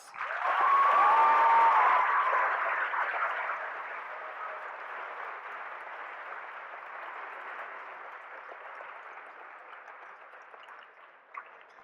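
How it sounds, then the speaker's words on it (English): Sustained audience applause at a high school class day ceremony, loud at first and then gradually thinning over about twelve seconds as the clapping fades. "Please give these deserving individuals a round of applause."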